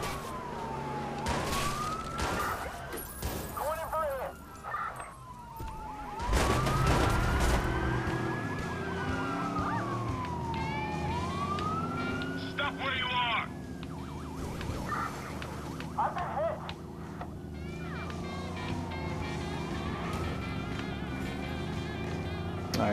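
A police car siren wails in the Watch Dogs video game, rising and falling continuously over engine rumble, with a few loud crashing thuds along the way.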